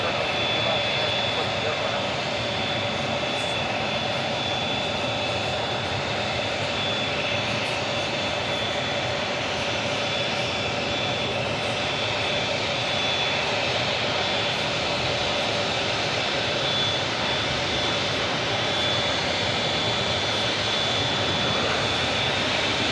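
An Emirates Airbus A380 runs its jet engines at JFK airport, giving a steady, continuous drone with a thin high whine on top, even in level throughout and heard from some distance.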